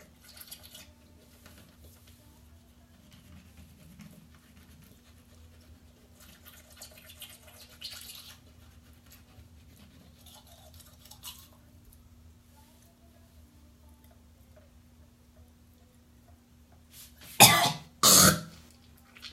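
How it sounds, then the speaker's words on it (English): Toothbrush scraping along the tongue and back of the throat to bring up phlegm, ending in two loud, harsh hawking bursts near the close after a long stretch of quiet rustling and low hum. "you scrape back and forth along the back of the throat to bring up the phlegm"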